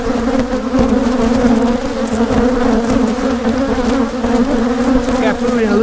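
Honeybees buzz loudly and constantly around opened brood frames during a hive split, a dense close drone with steady hum and scattered flybys.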